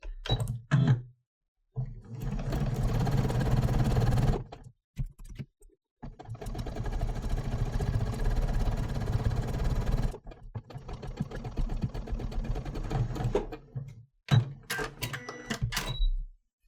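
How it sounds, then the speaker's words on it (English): A home sewing machine stitches pieced quilt triangles with a scant quarter-inch foot, running in long steady bursts separated by short pauses, with a few clicks and thunks from handling near the end. "then I can take this unit to my sewing machine and sew."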